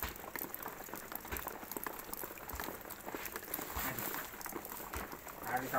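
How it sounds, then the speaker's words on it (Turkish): Steady rain patters and hisses across a broad wash, with scattered heavier drips and taps standing out against the constant shower. "Yağmurun şırıltısını duyuyorsunuzdur."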